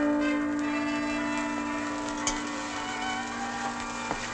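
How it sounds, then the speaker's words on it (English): A bell rings with a sustained tonal hum and a few faint strikes, fairly steady and moderately loud, heard alone with no talk. "What's that bell, darling?"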